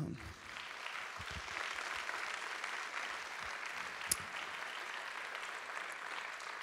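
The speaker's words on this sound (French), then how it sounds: "Je pense qu'on peut les applaudir." Audience at the opening of the Web2day 2018 festival applauds its organising team, a steady even wash of clapping from a sizeable crowd lasting several seconds, moderately distant, with one sharp loud clap standing out.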